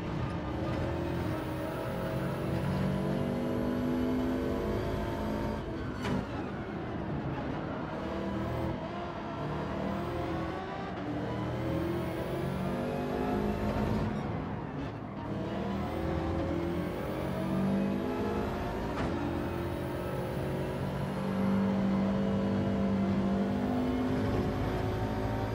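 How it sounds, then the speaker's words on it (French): An Alfa Romeo race car roars around the Deep Forest circuit, run in reverse, in a racing video game. The engine climbs and drops through repeated gear changes in a loud, continuous snarl, with no one talking. "Et l'Alpha, le bruit il est assez incroyable."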